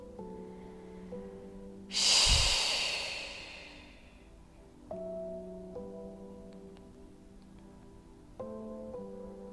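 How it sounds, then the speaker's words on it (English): During a slow, supported yoga class, one deep breath is heard: a strong, airy exhale rushes out close by and slowly trails off, over soft, sustained background music. "Big inhale, big exhale."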